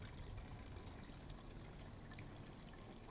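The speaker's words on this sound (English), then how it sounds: "I like to pour the sparkling mineral water in first before I pour the juice in." Sparkling mineral water pours steadily into a container, a continuous fizzing, hissing stream of bubbles that stays even and fairly quiet throughout.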